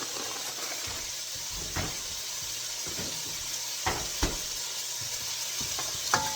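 Frozen vegetables sizzle steadily in a hot pan during a stir fry, with a constant frying hiss broken by occasional scraping knocks of stirring, close and fairly loud.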